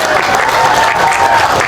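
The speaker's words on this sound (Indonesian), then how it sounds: "Beri tepuk tangan untuk beliau." Dense, sustained crowd applause at a Muhammadiyah wing's political declaration rally, loud and continuous throughout with a murmur of crowd noise underneath.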